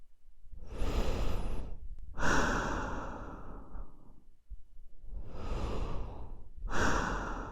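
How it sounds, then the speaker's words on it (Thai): Soft, close breaths from behind in an eerie horror audio-drama scene, heard as two long inhale-exhale swells with a brief pause between, breathy and hushed with no talking. "แต่แล้วผมก็ได้ยินเสียงหายใจเบาๆที่ด้านหลัง"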